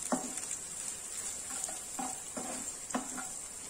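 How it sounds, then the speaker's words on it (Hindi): Spatula scrapes and stirs egg and onion sabzi with green chillies in a pan, a few soft irregular strokes over a faint steady sizzle. "अब हम इसको मिला लेते हैं इस तरह से।"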